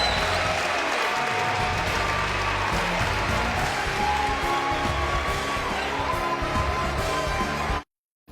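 Dense, loud applause and cheering from a basketball arena crowd, sustained and roaring for several seconds before cutting off abruptly.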